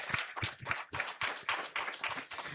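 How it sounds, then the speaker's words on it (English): Live audience at a corporate women's event claps in quick, uneven bursts, a few nearby pairs of hands loud and distinct rather than a large roaring crowd. "Let's give a huge applause to everyone."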